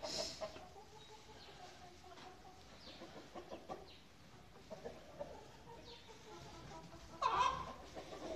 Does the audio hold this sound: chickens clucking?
yes